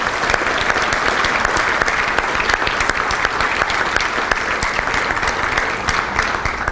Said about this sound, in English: That she deserves a round of applause.